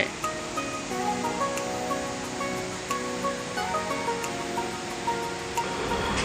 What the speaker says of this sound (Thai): ถึงแม้เป็นทานน้ำตก ที่มีขนาดไม่ใหญ่มากนะครับ